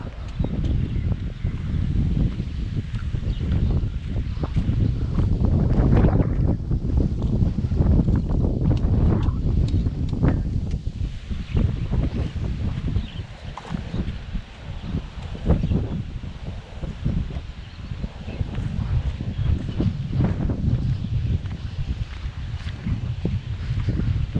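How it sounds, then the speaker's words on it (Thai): Strong wind gusting across open rice fields in the countryside, a loud continuous roar and buffeting rush against the microphone with no voices. "ลมโคตแรง"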